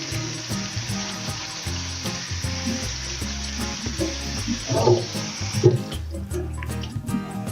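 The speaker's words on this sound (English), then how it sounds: "First thing we're going to do is give the beans a good rinse" Monggo beans rinsed under running water, a steady rushing hiss of tap water with soft rattles and splashes as the beans are swished, then a quieter tail after the flow stops.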